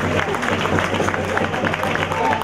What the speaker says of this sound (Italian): Applauso a noi!